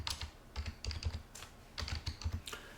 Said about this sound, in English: I'll type in internet.